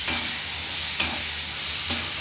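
Tomato and coriander paste frying in a pan on low flame: a steady bright sizzle with three scraping stirs about a second apart, close and without talk.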